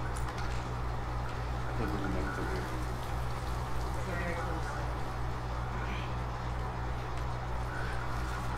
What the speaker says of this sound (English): At least the rain came.